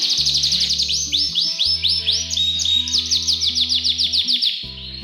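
Imported canaries in an aviary sing continuously, with rapid trilling chirps and warbled phrases close by, several birds overlapping over a low steady hum.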